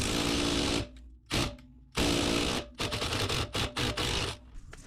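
A Milwaukee power tool loosens the rear wheel bearing bolts on a 2006 Toyota Corolla S. It sounds as loud, close, grinding bursts, with a long whir and then several short stuttering pulses cut by pauses.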